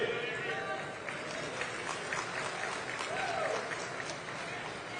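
Political rally crowd applauding, a dense continuous roar of many hands clapping that holds steady throughout at a distance, with faint voices mixed in.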